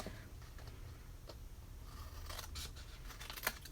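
Scissors snip through paper while trimming the bottom of a Halloween milk box papercraft, a run of faint, quiet cuts with one sharper snip near the end, no talking.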